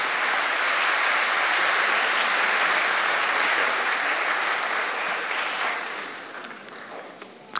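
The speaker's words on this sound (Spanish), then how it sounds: "pido un fuerte aplauso" An audience in a formal hall gives a strong, sustained round of applause welcoming a doctor to the podium, a dense, even roar of clapping that thins out over the last couple of seconds into a few scattered claps.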